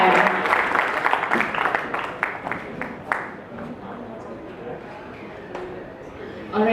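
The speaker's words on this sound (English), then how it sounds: "let's have a big round of applause once again" Loud crowd applause that gradually thins out and fades into a quieter room, with a few scattered claps near the end.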